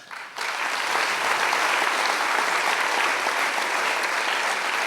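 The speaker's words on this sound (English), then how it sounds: "I would like to have an applause for Crea Senza." A contest audience at a biosensor competition bursts into sustained applause for a team, dense steady clapping from a crowd that starts abruptly and holds evenly at full strength.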